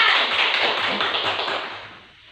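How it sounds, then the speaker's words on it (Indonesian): Students in a biology classroom clap together, a dense burst of many hands close by that holds steady and then fades out toward the end. "Oke, bagus, tepuk tangan."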